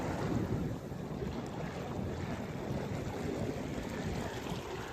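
Steady, roaring wind gusts across open water around an inflatable pontoon boat with an electric trolling motor, loud and continuous, with a broad rushing texture and no voices.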